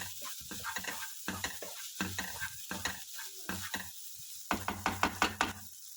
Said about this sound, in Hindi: इसको थोड़ा चला दे ताकि मसालों की अच्छी खुशबू आ जाए।